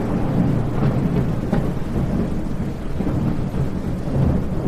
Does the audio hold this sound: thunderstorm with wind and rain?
yes